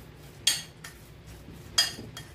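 A spoon clinks against a bowl while corn lollipop ingredients are mixed; two or three sharp, faint taps over quiet scraping, with no talk.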